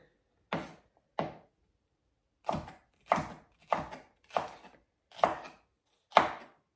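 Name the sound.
chopping red bell pepper lengthwise with a knife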